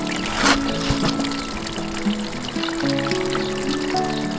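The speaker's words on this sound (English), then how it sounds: "I did not plug it because I wanted to make sure the water comes out." Excess water trickles and splashes out of the bottom of a freshly watered vertical grow bag, a close, continuous pouring dribble with a humming tone in the background.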